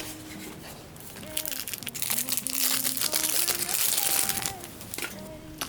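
A black croc-leather A7 pocket planner is pulled out of a bag, giving close, busy crinkling and rustling that swells in the middle and then eases, with a voice murmuring faintly behind.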